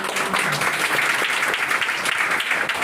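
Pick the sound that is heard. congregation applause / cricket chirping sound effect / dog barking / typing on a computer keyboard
congregation applause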